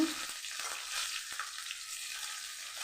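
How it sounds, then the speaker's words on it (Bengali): Cumin seeds and chopped fresh and dried chillies fry in hot oil in a kadai, giving a steady, bright sizzle. A single soft tap of a utensil cuts in partway through, and no voices are heard. "কড়াতে আমি জিরে ফোড়ন দিয়ে দিয়েছি এবারে আমি দেবো কাঁচা লঙ্কা কুচি শুকনো লঙ্কা কুচি"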